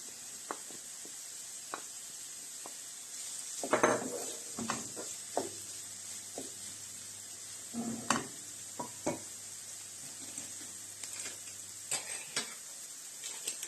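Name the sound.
onion frying in a pan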